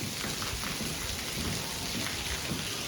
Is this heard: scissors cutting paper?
no